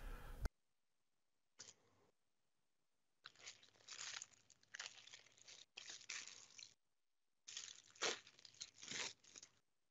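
Several bursts of crinkly tearing and ripping, like packaging being pulled open up close, separated by short silences.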